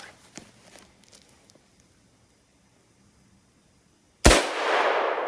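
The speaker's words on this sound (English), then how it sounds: "Here we go, Chuke's 308 over the chronograph" A .308 Win rifle fires one 165 grain GMX round over a chronograph: a single loud, sharp crack after near silence with faint rustling, followed by a sustained rumbling wash of noise.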